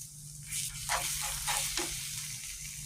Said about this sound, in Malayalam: ഇനി മുട്ടയും കൂടി ചേർത്തിട്ടുണ്ട് ഇനി നമുക്കിത് ചെക്കി തോർത്തിയെടുക്കാം